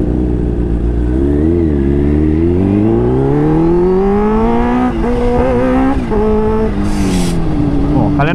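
A supercharged Kawasaki H2 with smart boost accelerates hard and close, its rising engine tone climbing through gears with brief shift dips, loud throughout.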